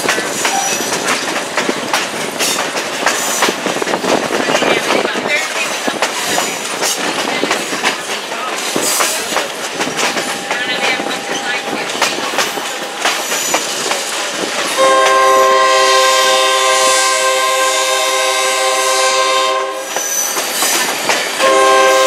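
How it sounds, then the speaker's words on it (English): Valley Flyer passenger train rolling toward the canal town of Metamora, Indiana, with steady loud rail rumble and clickety-clack, then a sustained horn blast blaring for several seconds near the end. "we then boarded the Valley Flyer bound for the small canal town of Metamora"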